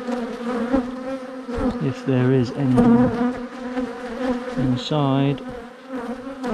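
Bees buzz steadily around a hive where young bees are hatching, a close droning hum running beneath a voice as he talks.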